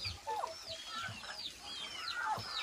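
Chickens and a rooster at a farm, caught before being taken to market, give faint scattered clucks and short squawks at a moderate distance over low background noise, with no talk.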